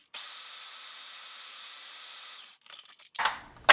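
A food processor mixes an energy bar blend of dates and unsweetened coconut with a steady whirring motor hum that cuts off, followed by a few scraping and clattering handling sounds.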